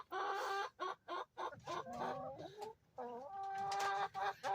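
Egg-laying hens clucking close by in a series of rhythmic, nasal cackles. The calls rise and fall in repeated bursts and end in a longer drawn-out call.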